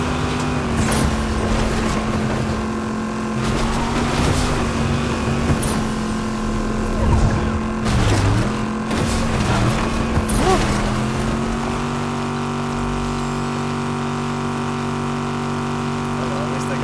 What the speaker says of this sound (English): at least I got to use the boat